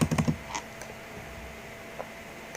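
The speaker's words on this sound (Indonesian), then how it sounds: "Lalu di sininya kita bisa ketikkan manual." A few quick, soft clicks of typing on a computer keyboard at the start, followed by sparse faint taps in a quiet room.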